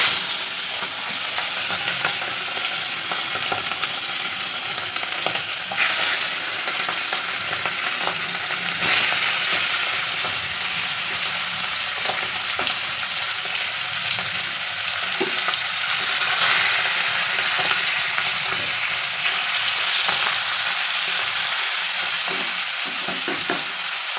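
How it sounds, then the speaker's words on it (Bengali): Pomfret fish frying in a pan of oil, a continuous close sizzle and crackle holding steady for a long stretch with occasional spatter pops, no speech. "তা চলুন এবার মাছটা ভেজে ফেলি।"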